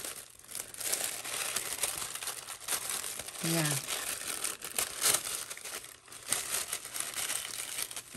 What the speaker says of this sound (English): Sorry, tissue paper.